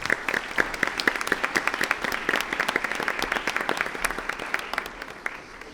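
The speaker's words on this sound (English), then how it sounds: "If we could have another round of applause for the" An audience at a school board of education meeting gives a round of applause, dense steady clapping that fades slightly toward the end.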